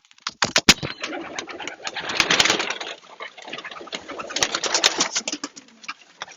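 Racing pigeons coo softly inside a loft, mixed with scattered clicks, scuffles and wing shuffles close by, with no one talking.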